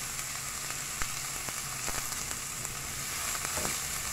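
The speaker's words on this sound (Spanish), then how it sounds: "El aceite ya está bien caliente, vamos a poner, amigos, miren, la cebollita" Onion sizzling and frying in very hot oil for Peruvian tuna rice, a steady dense crackle with scattered pops, close and continuous without any talking.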